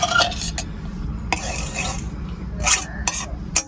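Crushed garlic and cumin tip into a pan and get stirred: scraping spoon strokes and clinks over a low sizzle, with sharp metallic knocks against the pan at intervals.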